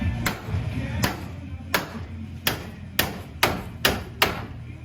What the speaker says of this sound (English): After some gentle massaging with a mini sledgehammer